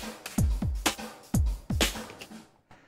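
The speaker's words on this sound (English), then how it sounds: "What I'm going to do is take the acoustic drum kit and I'm going to put a bunch of reverb on it." Acoustic drum kit drenched in plate reverb added in Cubase, a short pattern of kick, snare and cymbal hits each trailing a long wash that blurs into the next, loud and close with no talking.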